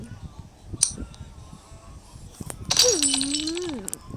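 Glass breaks in a sudden bright crash against quiet background noise, followed by a voice.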